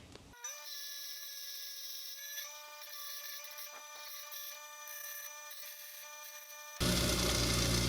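An angle-grinder-style power tool grinds down a bolt head on an INEX Legend race car, giving a steady high whining tone throughout before a sudden loud harsh burst of grinding noise at the end.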